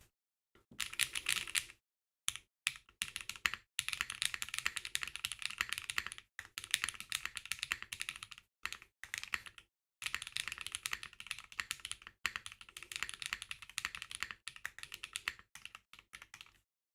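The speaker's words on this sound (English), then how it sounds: "Okay, one last sound test." Close, steady typing on a Kraze65 65% mechanical keyboard with likely stock factory switches, dense bursts of crisp clacks broken by brief silent pauses, no talking.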